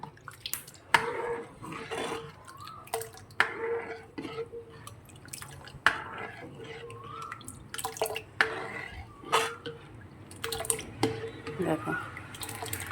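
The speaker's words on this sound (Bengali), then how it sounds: "এবার এই যে সাবুটা দিয়ে দেবো সাবুটা দিয়ে একটু হাতাটা দিয়ে নেড়ে নেবো" Soaked sago is tipped into a liquid sherbet base and stirred with a ladle, producing scattered wet drips, splashes and light clinks at an uneven rhythm, close by, while someone talks over it.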